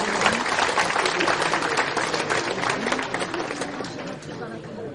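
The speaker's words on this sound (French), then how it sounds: "Bravo messieurs, on peut les applaudir." Audience applauding at a 2012 award ceremony in Belfort after a medal is announced, a dense, steady wash of clapping with crowd murmur underneath, holding loud and then fading slightly toward the end.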